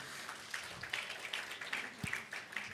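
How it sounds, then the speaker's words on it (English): Scattered audience applause at a sustainable energy conference, faint and thin, with a few distinct claps over a soft steady patter. "So maybe a round of applause to yourselves as well"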